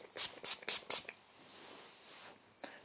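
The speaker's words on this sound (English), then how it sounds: "I'm spraying" A spray bottle mists hair during a relaxed haircut, giving four quick, close hissing spritzes in a row, then a quiet pause and one more spritz.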